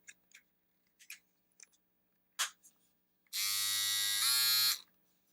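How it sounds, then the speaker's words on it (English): A cordless USB rechargeable trimmer with its microfoil shaver attachment buzzes steadily for about a second and a half, close and loud, shifting pitch slightly near the end, after a few faint handling clicks. "here's like a microfoil shaver attachment"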